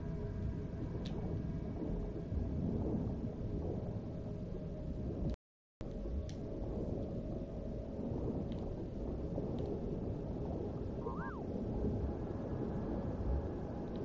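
A thunderstorm rumbles in Star Wars Jedi Fallen Order, a steady wash of heavy rain and low storm noise, broken by one brief dropout, with faint distant clicks and a small tonal blip.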